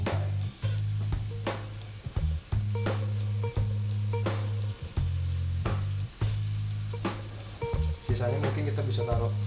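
Onion sizzles loudly in a pan with a continuous crackle, broken by repeated sharp clinks and scrapes of a utensil stirring at an irregular pace.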